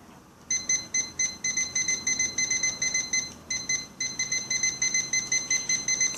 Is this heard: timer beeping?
yes